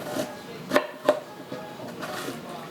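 A knife chops bell peppers on a cutting board, cut at an angle along the ribs: a few sharp, separate knocks of the blade on the board, up close and moderately loud, with quiet gaps between strokes.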